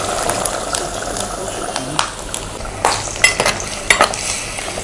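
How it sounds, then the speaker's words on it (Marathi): Water being poured into Malvani chicken curry cooking in a pan, with stirring and sizzling through most of the stretch and a few sharper splashes and clinks near the end, all close and fairly loud. "आता थोडस हे पाणी घालते."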